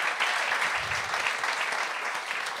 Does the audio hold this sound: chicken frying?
no